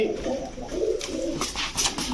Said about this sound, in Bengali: সবগুলো হাই ফ্লেয়ার কবুতর